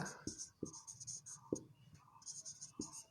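A pen scratches across paper during a maths lesson, with soft, quiet strokes and a few sharper taps, and a teacher speaks softly between them.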